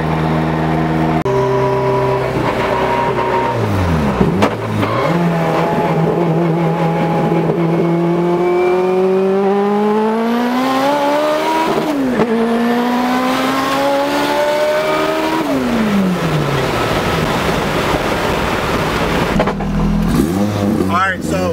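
A 900 whp Toyota MR2 accelerating hard under turned-up boost, its engine note sweeping upward through repeated gear pulls, loud and close, with a voice talking over parts of it.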